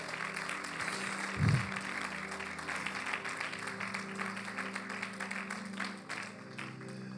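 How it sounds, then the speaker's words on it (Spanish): A church congregation applauds during a Spanish-language service, the clapping a soft, continuous wash with a low hum beneath and a brief thump early on. "Vamos, dale fuerte el aplauso."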